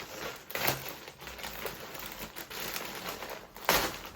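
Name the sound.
opening a plastic parcel of Temu bags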